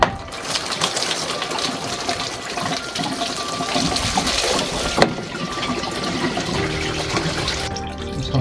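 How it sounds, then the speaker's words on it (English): Water pouring into the oil-contaminated cooling system of a Fiat 500 being refilled for another flush, a loud continuous rushing and gurgling fill with a sharp clunk midway and no talk. "fill it back up, and we'll go for another flush"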